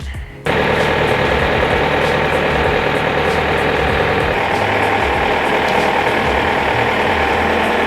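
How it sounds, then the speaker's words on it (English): A Bobcat loader lifts an engine on a strapped pallet out of the back of a truck, its steady engine drone and clattering mechanical rattle running loud and continuous after a short quiet start. "He's about to get her out of the back of the truck with the Bobcat."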